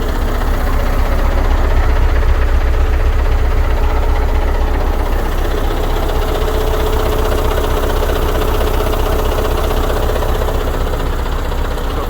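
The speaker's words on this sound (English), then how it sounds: "That's a big V8 engine." Scania truck V8 engine idling up close, a loud deep rumbling throb with a steady rhythmic knock running the whole time.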